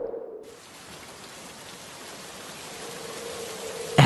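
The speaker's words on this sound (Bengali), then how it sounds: "এত বৃষ্টি, বন্যা হবে না তো?" Heavy rain falls in an animated village cartoon during a windy storm. A dense, even roar of rain begins after a brief moment and continues steadily.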